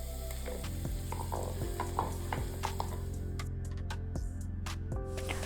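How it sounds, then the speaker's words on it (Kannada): Onion, cashew and green chilli paste frying in a pan for malai chicken, with a loud continuous sizzle throughout and a low steady hum underneath. "ಆ ಪೇಸ್ಟನ್ನು ಆ್ಯಡ್ ಮಾಡಿದ ಮೇಲೆ ಚೆನ್ನಾಗಿ ಅದನ್ನು ಫ್ರೈ ಮಾಡ್ಕೋಬೇಕು."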